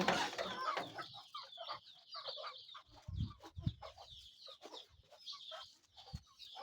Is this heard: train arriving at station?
no